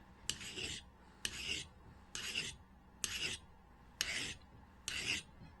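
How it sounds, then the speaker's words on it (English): A regular hand file is pushed across the steel spine of a Mora knife in six even, rasping strokes, about one per second, close and clear with no talking. "I'll take a file and work across this spine"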